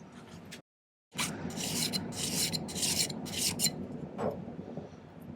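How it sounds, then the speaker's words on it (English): A hand file rasps in repeated strokes along the edge of a metal ruffle ring, a steady scraping rhythm after a short silent gap, close and fairly loud with no talking. "I think I'm just going to spend a couple of minutes filing this a bit."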